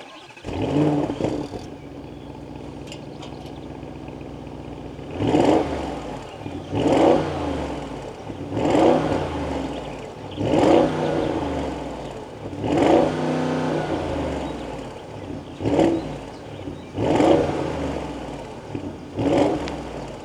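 Audi SQ8 2024 with its 4.0L V8 revved repeatedly in sharp bursts, roughly every two seconds, each blip rising and falling back to a steady idle; close and loud, with no talking.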